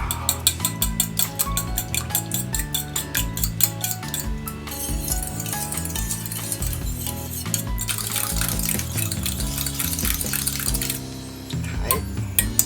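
Fresh garden-grown mitsuba herbs are rinsed under running water at a kitchen sink, with a steady splashing stream and occasional light clinks and rustles, close and fairly loud throughout.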